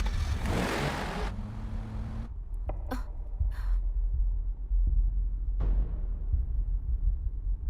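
A car pulls away in a tense Korean action drama scene, its engine revving and accelerating under a rumbling low drone, with brief whooshes and knocks mixed in and no speech.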